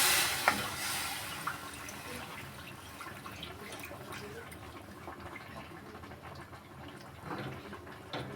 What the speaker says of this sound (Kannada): ಇವಾಗ ನೀರು ನೋಡಿ ಹಾಕೋತಾ ಇದ್ದೀನಿ.